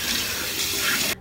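Water running steadily from a sink tap while a peel-off face mask is washed off, a loud, close, continuous splashing rush that cuts off abruptly near the end.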